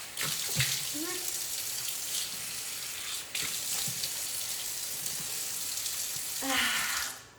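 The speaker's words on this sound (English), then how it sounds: "I'm going to rinse." Running tap water splashes as a face is rinsed during a summer skincare routine, a steady gush with a few wet splashes and short breaks where the flow is interrupted, fairly close and not loud.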